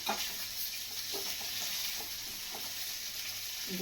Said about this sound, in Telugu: సో వెల్లుల్లిపాయ కూడా మంచిగా చక్కగా వేగిపోయిందండి. ఇందులో నేను చక్కగా కొత్తిమీర వేసేస్తున్నా